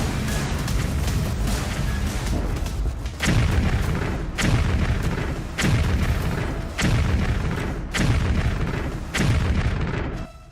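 Heavy explosions from air strikes on Ukraine boom in a regular series of about six loud, dense blasts, each separated by a short gap.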